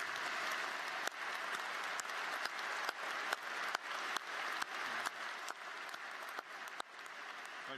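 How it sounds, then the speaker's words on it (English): A large crowd at a spring college commencement applauds the faculty with steady, dense clapping that continues for several seconds, heard at a moderate distance with sharp individual claps standing out. "let's give them a round of applause"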